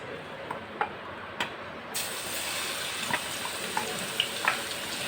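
Garlic paste hitting hot ghee in a pan, bursting into a loud sustained sizzle and hiss after a quieter start, with scattered sharp pops and spatters.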